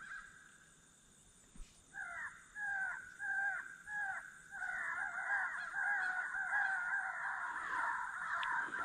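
A wild crow perched in a nearby tree caws repeatedly during a flintlock crow hunt, starting with several short evenly spaced caws and then breaking into a longer continuous run of loud, harsh calls, with no talking.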